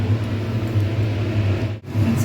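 A mixer grinder pastes raw chicken with a loud, steady motor whir and hum. It cuts out for a moment near the end, then starts up again, with no speech.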